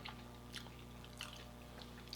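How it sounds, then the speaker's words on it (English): Faint close-up chewing of a keto pizza tortilla gives soft crunchy bites and squishy chews at a slow uneven pace over a quiet low hum. "I'll be chewing and camera see right inside my mouth all the food I'm chewing in"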